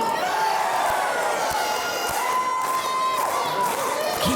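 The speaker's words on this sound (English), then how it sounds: "And he's once again getting the crowd into this, feeding off the crowd" A crowd at a wrestling match cheers and shouts steadily throughout, a dense, loud roar of many voices with a few sharp thuds underneath.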